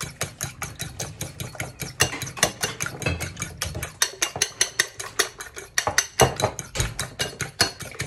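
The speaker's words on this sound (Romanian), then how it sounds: "Facem bine ouăle cu sare." Eggs are beaten hard with salt, a fork or whisk clattering rapidly and steadily against the side of a bowl in a fast, even rhythm, loud and close, with no voices.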